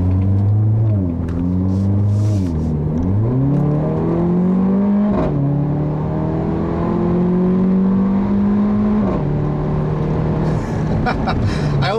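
A 2015 Mercedes-Benz GLA45 AMG's engine and exhaust rise and fall through repeated revs, the loud, close exhaust note climbing and dropping with gear changes over a steady drone.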